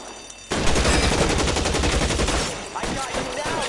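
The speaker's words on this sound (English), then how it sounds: "I'll lay down some suppression fire" Loud automatic suppression fire in a PS4 shooter game starts abruptly and rattles in a dense, sustained burst, easing slightly before the clip ends.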